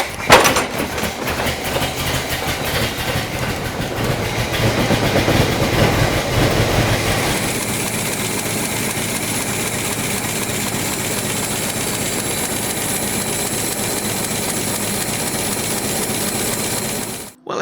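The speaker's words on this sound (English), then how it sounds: "as you heard there, Liz's engine was running absolutely top notch" A Ford Model T engine with a freshly rebuilt coil box comes to life and keeps running, a loud, busy mechanical clatter that settles into a steady, even rhythm until it cuts off abruptly at the end.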